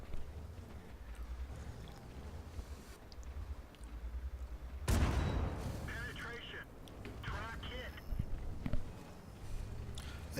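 Artillery shell hitting a Skoda T25 tank in World of Tanks lands as one sharp, heavy impact partway through. Rumbling engine noise runs under it, and someone talks over the scene.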